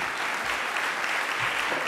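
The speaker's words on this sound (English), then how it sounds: "So maybe you could just join me in giving a round of applause to our panelists." Conference audience applauding panelists at a plenary session on financial regulation, a dense, steady burst of clapping from a large room, heard alone.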